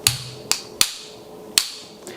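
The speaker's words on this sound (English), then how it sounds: "I'm going to start with a slightly larger punch to just get that started and get it moving from the other side" A loose hammer strikes a pin punch to drive a pin out of an airsoft Vz61 upper receiver, five sharp metallic taps at an uneven pace, clear and close with quiet pauses between.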